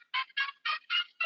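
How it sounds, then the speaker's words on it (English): A mobile phone ringtone plays as five short, evenly spaced bright bursts, fairly quiet and with no talking. "My phone's going off."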